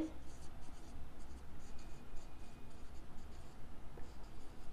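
Chalk or marker strokes on a classroom board while an answer is written during a class 10 algebra financial planning lesson, short scratchy bursts under a teacher's speech in a quiet room.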